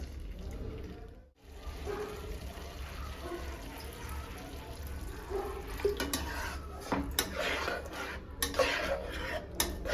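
Mushroom masala stirred in a pan with a spoon, giving a busy run of scraping and clinking metal against cookware over a low background hum, louder and denser toward the end.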